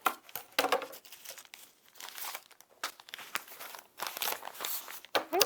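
Paper is cut and trimmed up close with irregular bursts of crinkling, rustling and snipping, separated by brief quieter gaps.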